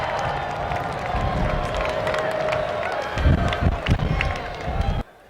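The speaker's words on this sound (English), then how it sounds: "I want you to stand up and wave and cheer your supportive family and friends." A large crowd at a university commencement ceremony cheers and applauds for families and friends, a broad, steady roar of claps and shouts that swells briefly near the end and then cuts off abruptly.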